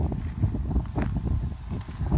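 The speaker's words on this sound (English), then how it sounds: "The wind's going to be terrible for the audio" Gusty wind buffeting the microphone at the harbor in Lubec, Maine, a steady low rumble with bursts of rustling, close and fairly loud throughout.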